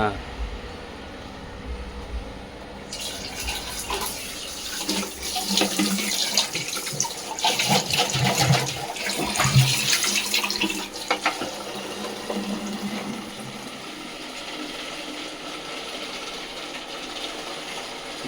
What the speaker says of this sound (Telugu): వాటర్ పట్టాలి బాటిల్స్కి